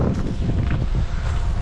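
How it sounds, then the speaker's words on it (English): Strong wind buffets the microphone on an exposed mountain summit in Wrattens National Park, Queensland, a steady loud low roar with gusty swells and no voices over it. "It's the windiest mountain I've had for a while"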